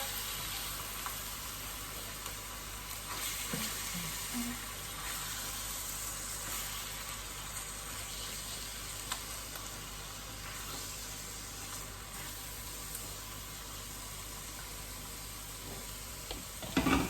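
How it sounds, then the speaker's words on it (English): A tomato and zucchini pilaf mixture is stirred and mashed in a hot pan. A steady soft sizzle runs throughout, broken by occasional scraping knocks of the utensil and a louder clatter at the very end, with no speech. "I'm just going to give that quite a good smush and mix it all around together"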